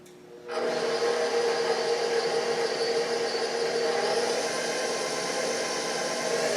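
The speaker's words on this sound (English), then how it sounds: "we're going to mix it with the beater attachment for about 2 minutes" A stand mixer fitted with a beater attachment starts up and churns bread dough made with milk, butter and egg, giving a steady whirring motor drone with a faint rubbing texture after a quiet start.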